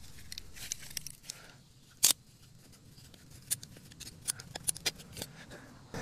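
Sprinkler line tubing being cut for a garden irrigation install, a sharp crisp snip standing out near the middle, followed by scattered lighter clicks and handling noises against quiet outdoor background.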